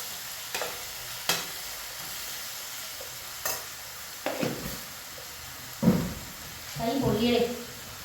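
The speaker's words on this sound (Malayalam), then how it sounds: "നമ്മുടെ സവോള പെട്ടെന്ന് വരണ്ട് കിട്ടാനായിട്ട് നമുക്ക് അതിലേക്ക് കുറച്ച് ഉപ്പിട്ടു സവോള പെട്ടെന്ന് മൂത്ത് കിട്ടും" Salted onions stirred in a pan on a stove in a home kitchen, with a few sharp scraping stirs scattered through the clip and a soft sizzle that builds near the end.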